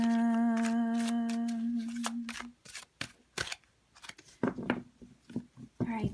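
Tarot cards shuffled in short bursts of crisp riffling snaps and taps, sharp and close, coming in uneven clusters after a sustained tone fades out.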